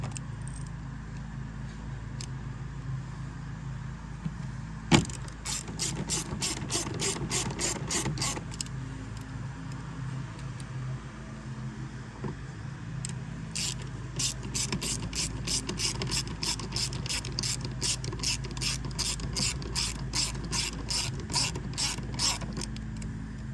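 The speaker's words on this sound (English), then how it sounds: "4 screws to put in. Get them started first, and we'll go back and tighten them" Ratchet tightens the screws on a Tahoe headlight, heard up close as long runs of rapid, regular clicking bursts between quieter handling noises, with a sharp knock near the start and no talking.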